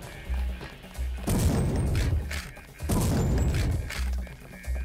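Two heavy, booming shotgun blasts from the video game Deus Ex Revision, each a loud crunching burst with a lingering tail, spaced about a second and a half apart over low rumbling game ambience.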